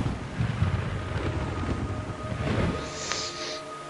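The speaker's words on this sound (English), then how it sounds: "It's raining blood." Steady rain with low rumbling thunder in the video game Metal Gear Solid 3, a dense broadband wash that swells and fades evenly, alone with no voices.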